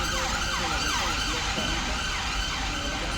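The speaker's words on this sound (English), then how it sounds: "wait for the siren." An emergency siren wails continuously in rising and falling sweeps near Horse Guards, loud and close, over constant traffic rumble.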